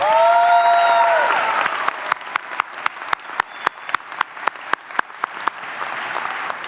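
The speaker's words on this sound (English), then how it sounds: "Let's hear a huge round of applause for our new students." A large crowd at Stanford's opening convocation ceremony applauds new students with a big, sustained roar of clapping, joined partway through by loud, evenly spaced rhythmic claps or beats.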